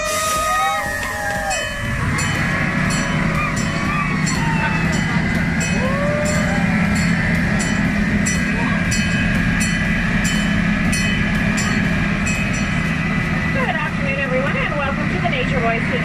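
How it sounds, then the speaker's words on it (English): Scenic railway train ride at a lion safari park, with a steady rumble of the moving train cars and wheels rolling throughout, and voices talking over the ride noise. "we're going for a train ride"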